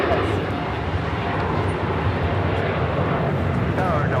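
An All Nippon Airways Boeing 787-9 Dreamliner takes off from LAX bound for Tokyo Narita, its engines a steady, loud broadband roar that holds even throughout, with faint background noise mixed in.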